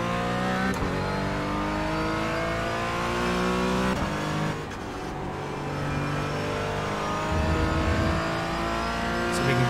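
A sim racing game's race car engine revs and accelerates hard, its loud steady drone climbing in pitch through gear changes, with brief dips between shifts and no speech.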